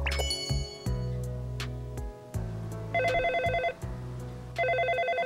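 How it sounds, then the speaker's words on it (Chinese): A telephone rings in repeated bursts of a bright electronic trill, alternating with plucked musical notes, fairly loud and close, with no talking. "有电话"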